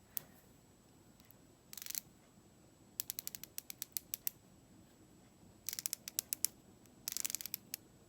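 Twist mechanism of a matte liquid lipstick tube, reportedly broken, gives quick bursts of tiny ratcheting clicks in several separate runs, close and crisp over a quiet background.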